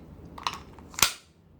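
Two sharp, snappy shots from an M9A1 BB gun pistol, the second louder and crisper, each a quick crack with a brief ring in a quiet room.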